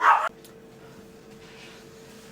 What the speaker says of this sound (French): Nous avons calmé les chiens